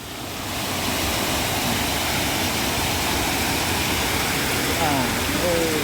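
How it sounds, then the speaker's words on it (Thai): Steady, very cold water pours and gurgles down into a hole at the Tat Ton waterfall in Ubon Ratchathani, Thailand, a loud continuous wash that fills the whole clip. "น้ำจะไหลลงรูนะครับ น้ำไหลลงรู"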